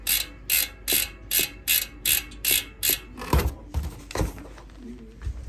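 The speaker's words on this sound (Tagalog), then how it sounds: "Compare pala natin yung tunog ng free hub nito dun sa isang wheelset natin." A bicycle freehub on a Zipp 303s wheelset ratchets in rapid clicking bursts as the wheel is spun in repeated pulses, then slows into a few irregular clicks and softer mechanical knocks.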